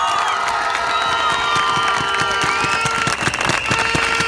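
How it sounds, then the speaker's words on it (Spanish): A large outdoor crowd at a political march in a Bogotá park applauds and cheers, dense steady clapping with shouts and whistles rising over it, loud and sustained throughout. "un aplauso para todos"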